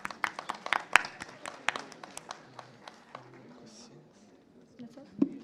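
A small audience at an AI buildathon event gives scattered, uneven applause for a team, a handful of sharp claps fading after a couple of seconds, with quiet voices and one final clap afterward.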